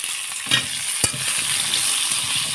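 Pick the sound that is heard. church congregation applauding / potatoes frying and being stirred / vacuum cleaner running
potatoes frying and being stirred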